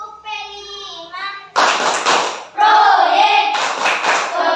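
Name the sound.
children clapping hands in a rhythmic clapping game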